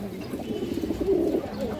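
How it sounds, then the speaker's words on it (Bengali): Pigeons coo in low, throaty rolling calls, close and fairly loud, with the cooing swelling toward the middle of a short stretch; the birds are a pair offered for sale, including a female pigeon. "খুব সুন্দর একটা মাদি কবুতর।"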